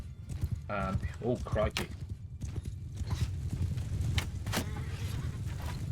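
Cavalry horses gallop during a Mount and Blade Bannerlord 2 battle, a dense drumming of hooves under battle noise, with someone talking briefly over it.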